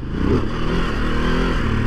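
A loud, close dirt bike engine drones and revs steadily with a gritty, buzzing roar, throttling without pause.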